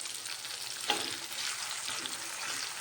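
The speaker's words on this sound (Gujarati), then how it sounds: "હવે આમાં જ આપણે ઝીણું સુધારેલું ટમેટું જે લીધું હતું તેને એડ કરી દઈશું, અને બધું જ સારી રીતે હવે મિક્સ કરી લઈશું" Chopped tomato stirred into cabbage sabzi frying in a pan, a continuous bright sizzle with a sharp spoon scrape early on and soft stirring clatter throughout.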